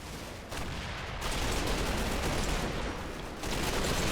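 Bren light machine gun firing in the Combat Mission game amid a wider firefight, continuous dense rattle of overlapping shots swelling in waves, moderately loud and mid-distance, no voices.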